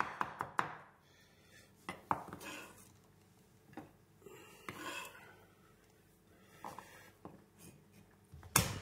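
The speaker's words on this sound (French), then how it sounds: "J'écrase l'ail avec le plat du couteau et je le concasse grossièrement pour la concassée de tomate." Kitchen knife coarsely chopping crushed garlic on a board for a beef lasagne tomato sauce, giving sharp, close, irregular taps spread across the stretch with quieter gaps between them.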